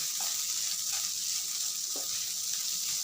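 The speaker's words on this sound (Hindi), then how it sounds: "इसे लगभग 3 से 4 मिनट अच्छी तरह से कुक कर लेना है" Spiced potato filling for Mumbai vada pav cooking in a pan, a steady close sizzle and fry with faint stirring scrapes, no talking.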